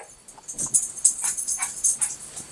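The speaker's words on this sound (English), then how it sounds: "Now my dogs are going to act up." Dogs whimper and yip in a string of short, high-pitched bursts, fairly close and restless, with no talking over them.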